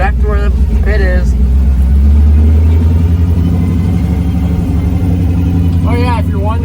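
Chevrolet Squarebody pickup engine idling while warming up on a mudding outing, a steady low rumble running throughout beneath intermittent speech from people in the truck.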